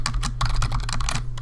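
Rapid, uneven typing on a computer keyboard, close and clear, with quick bursts of clicking keystrokes over a low steady hum and no talking.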